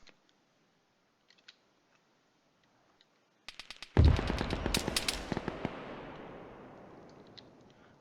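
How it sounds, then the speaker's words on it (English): Mortar shell exploding on a BTR armored vehicle in Arma 3, a few scattered clicks and shots before a loud, heavy blast with crackling debris and a long decaying rumble. "Mortar shell goes right on the BTR"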